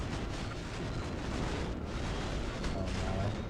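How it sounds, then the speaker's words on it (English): Rapid heavy cannon fire from a revolver-armed warship loosing 250 HE shells in Nebulous: Fleet Command, a dense, continuous rumble of overlapping booms with no pauses throughout. "This is a revolver ship firing all the 250s."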